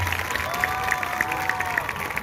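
Audience at a drug-free awareness event in Renukoot clapping in a steady burst of applause, with a sustained tonal hum and crowd noise beneath before it cuts off abruptly.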